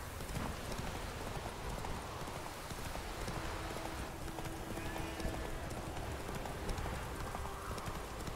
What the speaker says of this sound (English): Riding the horse.